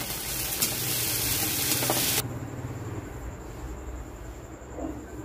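Ginger paste, garlic paste and chopped tomatoes for Punjabi-style chana masala sizzle loudly in a pan for about two seconds, then the hiss cuts off abruptly, leaving a low, quieter background.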